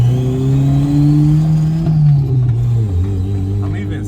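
A turbocharged Honda D-series engine that is losing power at high RPM revs hard under acceleration, a loud close engine drone climbing in pitch, then dipping briefly as it shifts and pulls again.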